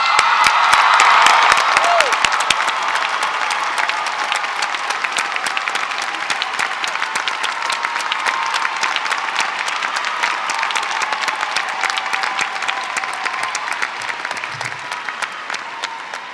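Graduates of the College of Arts and Humanities cheer and applaud at a 2015 spring commencement ceremony: dense, sustained clapping from a large crowd, loudest at the start, then steady for the rest of the stretch with scattered whoops.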